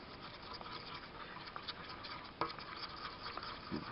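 A homemade antiseptic mixture for carp gets stirred in a container, making a soft, steady scraping patter with a couple of sharper knocks, close and quiet throughout.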